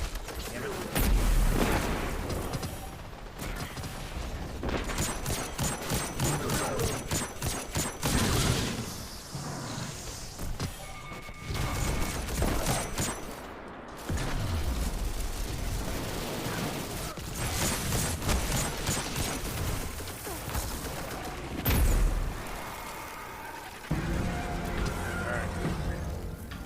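Bursts of rapid gunfire and booming shots in Destiny 2 come in clustered volleys amid a dense, loud mix of game effects, with occasional pauses between exchanges.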